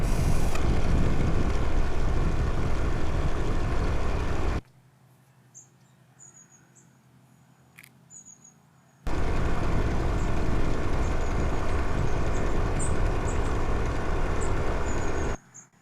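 Loud, steady mechanical whirring of a small Stirling engine driving a bicycle, cutting out for a few seconds of near quiet before resuming at full roar.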